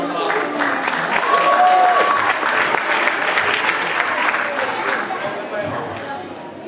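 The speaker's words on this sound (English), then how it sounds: "So let's give her a big round of applause." A talent show audience claps loudly and continuously as a singer is introduced, a dense wash of hands with a few crowd voices underneath, easing slightly toward the end.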